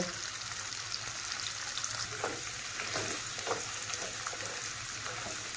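Colocasia stem and jackfruit seeds fry in a pan, a soft continuous sizzle with occasional scraping stirs and light clinks, fairly quiet and close with no talk.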